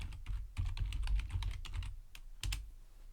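Quick typing on a computer keyboard while entering a search for a calendar template in Canva, a close, uneven patter of clicks with a brief pause before a final few keystrokes.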